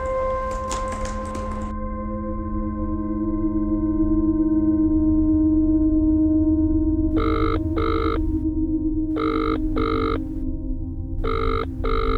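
A telephone rings in repeated double bursts over a steady electronic hum, after a short clatter at the start.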